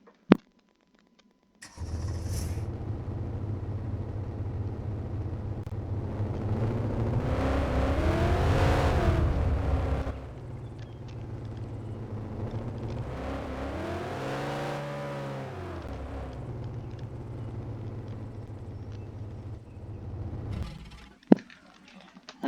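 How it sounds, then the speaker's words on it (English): A BMW M5 engine in the Arma 3 video game starts and revs, rising and falling in two loud sweeping pitch swells over a steady low idle before shutting off, with no talk over it. "when I turn the engine on to do the sound test, you can see it all pops up"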